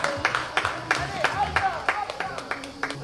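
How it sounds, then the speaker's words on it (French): Audience at an equestrian hunter show clapping for a young rider, scattered claps repeating across the crowd while a voice speaks over them throughout. "On l'encourage, on applaudit très fort."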